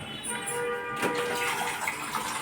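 Water poured a little at a time into a sarvapindi flour mix, a Telangana rice-flour flatbread dough, giving a steady close splashing trickle throughout.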